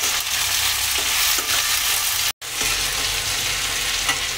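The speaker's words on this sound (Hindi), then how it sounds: "सेम को हम पहले भून लेंगे" Broad beans (sem) fry in a pan with a loud, steady sizzle and occasional stirring scrapes, broken by one brief cut, with no voices.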